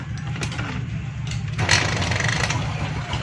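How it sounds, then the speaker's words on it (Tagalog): A Kawasaki Fury 125 motorcycle engine runs close by with a steady, throbbing low idle, swelling into a brief rev partway through before settling back. "paandarin muna natin yung motor"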